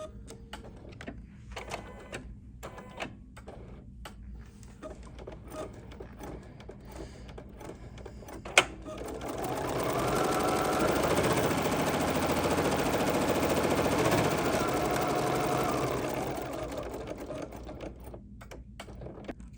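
An embroidery sewing machine stitches a wallet design, starting after a stretch of quiet clicks and handling noise and then running as a steady, fast, buzzing hum for several seconds before winding down, with no speech.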